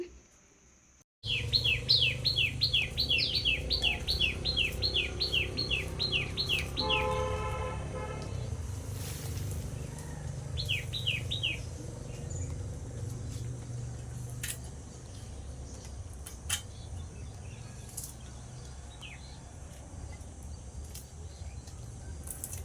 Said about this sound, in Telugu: చూసారు కదా నేచర్ సౌండ్స్ ఎంత బాగున్నాయో పక్షులు భలే అరుస్తున్నాయి